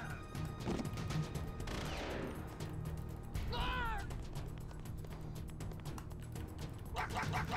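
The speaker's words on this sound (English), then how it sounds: "I shot Meryl on accident" Gunfire in a Metal Gear video game: a few sharp shots and impact crashes play over a steady game soundtrack, with a voice talking intermittently over the action.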